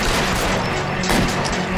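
Gunshots in the PC game LA Noire crack amid loud, dense combat noise, with a sharper burst of impacts about halfway through the short stretch.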